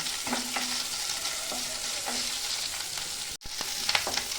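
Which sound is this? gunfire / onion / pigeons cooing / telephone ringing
onion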